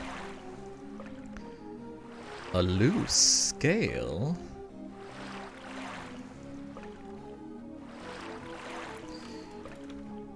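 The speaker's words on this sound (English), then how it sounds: "The water sound is the game." Water in the game EverQuest, soft lapping and dripping liquid sounds with a brief splashy squish in the middle, under a person talking.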